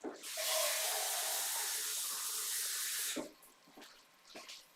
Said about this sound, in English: I've got loads of tomato residue left in my tin, so I'm going to fill that with water.